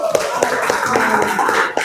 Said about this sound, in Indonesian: beri tepuk tangan tuh Holil